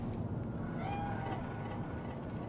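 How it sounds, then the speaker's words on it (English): A cat meows once, a short rising-falling call, over a steady hum of ambient game background in Cyberpunk 2077. "The cat. Fine-looking feline."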